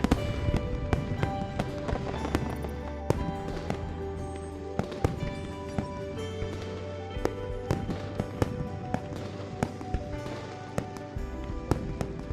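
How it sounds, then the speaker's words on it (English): Fireworks burst repeatedly in the video game Love and Deepspace, sharp crackling pops scattered over sustained musical tones, loud and continuous throughout with no speech. "we're accompanied by fireworks lighting up boundless streets, and they burn throughout the entire night"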